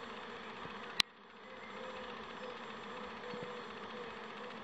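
A dense, steady hum of many honeybees swarming together, fairly faint, interrupted once by a brief sharp click near the start.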